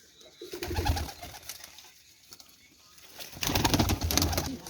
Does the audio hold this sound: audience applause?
no